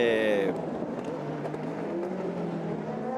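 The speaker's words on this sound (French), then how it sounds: "voitures commencent déjà à se former en file" Race cars circle at the 2019 24 Hours of Le Mans while safety cars are out and the field forms a queue, producing a steady, loud engine drone with a whining tone throughout.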